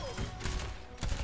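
Rapid bursts of gunfire from Baptiste's weapon in the Overwatch practice range, fired at training bots in short repeated volleys, close and loud.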